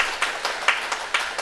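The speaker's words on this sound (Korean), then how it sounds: "박수 한번 주세요." A church congregation gives a short round of applause, with soft, scattered claps pulsing every quarter second or so, fairly faint and slightly distant.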